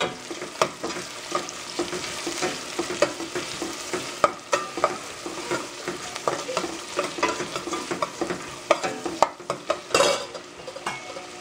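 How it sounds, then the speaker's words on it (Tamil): Onions and slit green chillies sizzle as they sauté in a pan, with a steady frying hiss broken by repeated scrapes and clinks of a stirring spoon against the metal. "வெங்காயத்தை ஃபர்ஸ்ட் வந்து நம்ம நல்லா வதக்கிக்கலாம்."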